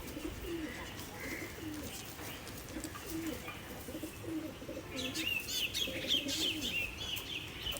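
Rampuri pigeons, a large breed, coo in low repeated calls, with brighter chirps and bird calls joining in the second half; no one speaks.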